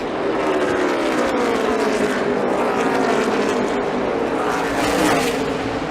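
NASCAR Cup Series race cars roaring around the track, a loud sustained engine drone with rising and falling pitch as cars pass close by, heard almost alone.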